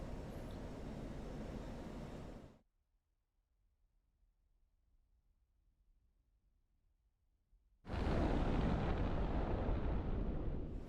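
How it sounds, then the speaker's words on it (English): HARM missile launched at an SA-6 site from an F-16 in the DCS flight simulator, a loud roaring rush that cuts off abruptly into near silence, then a second sustained heavy roar bursts in and holds steady. "then I'm going to fire Magnum SA6."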